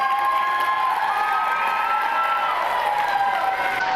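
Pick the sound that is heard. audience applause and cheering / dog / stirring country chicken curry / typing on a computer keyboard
audience applause and cheering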